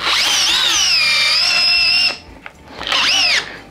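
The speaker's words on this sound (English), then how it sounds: "Okay, 6-inch timber lock in speed 2 with the DCD 800." A DeWalt DCD800 compact drill on speed 2 drives a 6-inch TimberLok screw into wood, with a loud, strained whine that runs for about two seconds, cuts out, then briefly surges again.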